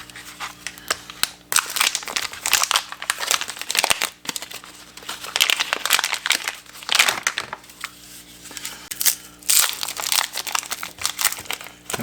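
A sterile bandage package from a first aid kit being ripped open, loud close crinkling and tearing of plastic wrapping in repeated bursts with rustling between them.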